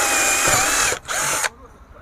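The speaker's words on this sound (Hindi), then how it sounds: "इसको ड्रिल करने के लिए दोस्तों ये देखो, जो ये गैप बना हुआ है यहाँ पे हमको ड्रिल करना है" An electric drill machine bores holes into a bike tyre for a nail experiment on a Bajaj Pulsar N160, whirring loudly in two close bursts separated by a brief pause, then stopping.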